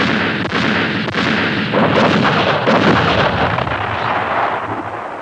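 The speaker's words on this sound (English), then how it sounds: "The communist artillery dramatically reveals its presence, pounding the unsuspecting French on the valley floor below." Artillery bombardment in a film about the battle of Dien Bien Phu: heavy, booming blasts that roll into one another, loud and close, forming a dense, continuous barrage with no voices.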